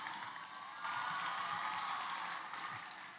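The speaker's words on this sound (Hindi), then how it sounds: "तालियां" A hall full of people claps for the awards at a girls' Urdu school's 25th annual day, a soft, continuous patter of applause heard from a distance, rising slightly partway through.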